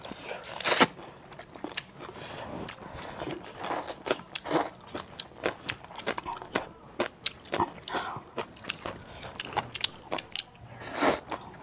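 Crunchy handmade spicy dried radish being bitten and chewed up close, with a string of sharp crisp crunches in an irregular rhythm and quieter chewing between them.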